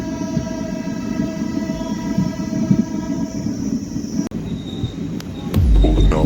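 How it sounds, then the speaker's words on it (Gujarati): A train idling at Bhavnagar Para railway station with a steady mechanical hum and faint wheel squeals, ending in a louder low rumble as it moves. "આ છે ભાવનગર પરાનું રેલવે સ્ટેશન."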